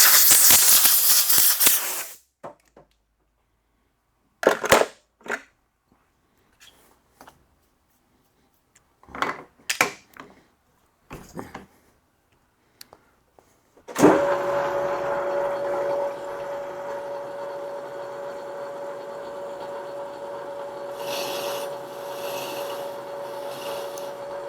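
A router fitted with a freshly swapped bit cuts a chamfer. Several short scraping bursts come first, then a sustained loud whirring cut with a steady tonal whine that runs to the end, close and without talk.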